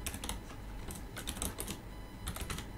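Rapid keystrokes on a computer keyboard while code is typed for a TensorFlow self-driving CNN project, a steady close clatter of clustered taps with brief pauses between bursts, no talking.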